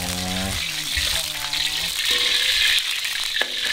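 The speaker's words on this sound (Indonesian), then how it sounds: "Kita tumis bumbunya udah kita haluskan pemirsa" Ground spice paste for seblak sizzles and fries in hot oil, a steady close hiss of frying with some stirring, while a voice talks over part of it.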